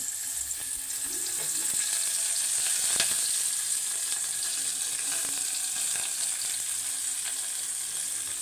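Onion and chilli fry in a pan for egg curry, giving a steady, loud sizzle with bright crackling and occasional soft stirring scrapes, heard alone.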